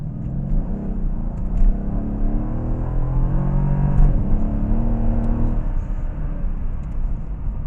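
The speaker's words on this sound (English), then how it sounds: "I'm going to give it just a little bit of gas here so you have an idea of the acceleration of it." A 2012 Mercedes-Benz CLS63 AMG Performance Pack engine hums and rises in pitch as it accelerates, a smooth steady whir close to the microphone.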